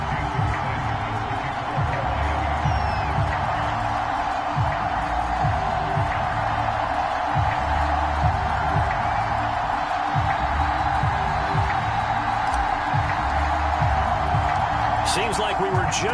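A stadium crowd in an EA Sports football game keeps up a continuous roar in Miami before a Dolphins–Colts matchup, a dense steady wash of cheering with sharper bursts near the end.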